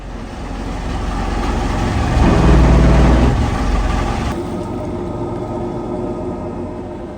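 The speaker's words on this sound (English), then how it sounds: "We fired up the engine, as usual." A sailboat's inboard engine runs steadily with a low rumble, swelling louder for a couple of seconds mid-clip before settling back to an even idle, with no talk over it.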